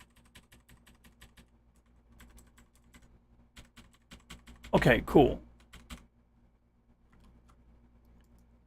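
Keys on a computer numeric keypad are pressed in a run of light, quick clicks, close and fairly faint, with a short stretch of talk in the middle.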